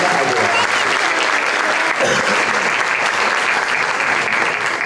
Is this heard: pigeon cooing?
no